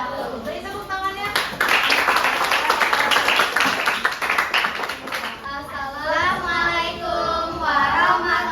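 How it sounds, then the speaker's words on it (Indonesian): An audience claps after a school presentation, a burst of many hands clapping that swells and fades, with children's voices and spoken talk before and after. "Beri tepuk tangannya."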